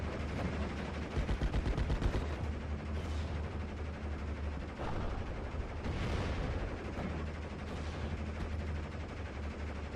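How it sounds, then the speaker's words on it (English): Panzer III tank shelling a mortar team in a World War II strategy game, heard as dense, continuous battle noise with rapid gunfire bursts and heavier blasts rolling through the full length, loudest early on, with no speech. "Panzer III is actually still hitting this mortar team"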